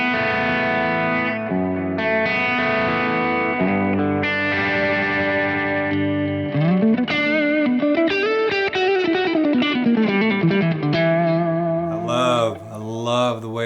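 An electric guitar runs through a Kemper Profiler's revival drive at a low-gain setting with a touch of reverb: sustained chords ring out, then a bending single-note lead line, then a few quick strums, all loud and alone.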